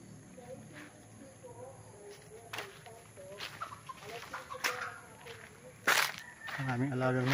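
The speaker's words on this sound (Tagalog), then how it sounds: "Ang aming alagang manok." Pet chickens cluck on a farm lot in Cavinti, Laguna, with scattered short clucks and calls, a sharp loud burst near the end, and people talking over the hens.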